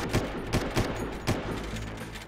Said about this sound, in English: I have two guys shooting.